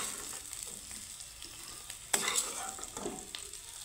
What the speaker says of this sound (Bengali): আমার কারকলগুলো সুন্দর করে ভাজা হয়ে গেছে